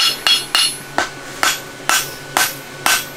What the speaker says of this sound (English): I'll switch over to my rounding hammer